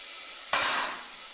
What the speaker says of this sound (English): Our garlic is frying.